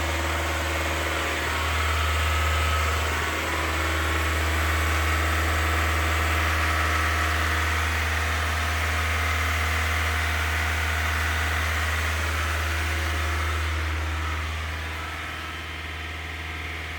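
A Honda CRX engine idles slightly high after sitting unused, a steady low hum with a faint whine that holds constant and eases a little near the end, heard alone without talk.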